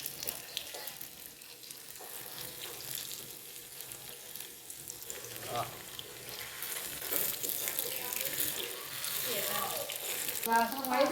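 Chicken pieces frying in hot oil, a steady sizzle that rises toward the end, with stirring and faint kitchen clatter mixed in.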